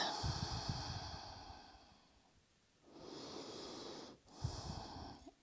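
Yoga practice in a fetal position lying on the left side: close, audible breaths, a long wheezy inhale and exhale separated by a quiet pause, with a soft nasal snort.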